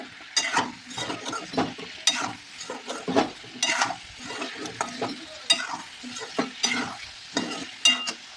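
Baby corn and vegetables, including brinjal, frying in a pan while being stirred, with close spatula scrapes and knocks coming in uneven bursts over a soft sizzle.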